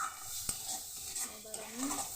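Spice masala being stirred and sautéed in oil, soft close scraping and clinks of a utensil against the pan over a quiet sizzle.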